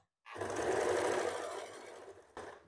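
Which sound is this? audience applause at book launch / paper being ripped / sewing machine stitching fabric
sewing machine stitching fabric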